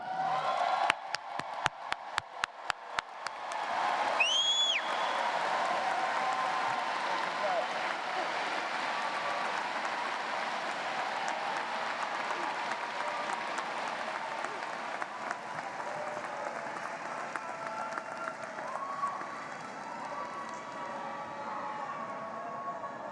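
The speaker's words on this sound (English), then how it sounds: "Let's give the graduates another round of applause, please." Audience at a university commencement ceremony breaks into sustained applause for the graduates, a few sharp early claps swelling into a dense, steady wash of clapping that continues throughout, with brief faint whistles near the start.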